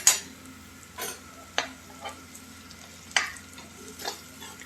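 Gram flour with chopped onions and green chillies frying in mustard oil in a pan, a soft continuous sizzle broken by several sharp scrapes and clinks of a spoon stirring against the metal, close and without talk.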